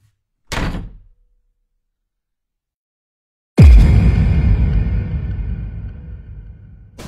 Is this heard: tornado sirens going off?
no